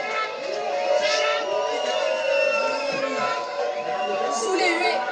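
A protest crowd booing Marine Le Pen's arrival in June 2020, a continuous loud wash of jeers, shouts and whoops sustained throughout.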